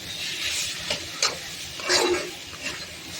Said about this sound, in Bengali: আলুটা পনির এবং পেঁয়াজের সঙ্গে খুব ভালোভাবে মিশিয়ে নিচ্ছি।